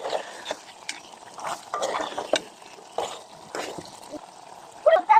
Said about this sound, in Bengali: আমরা কষিয়ে দিচ্ছি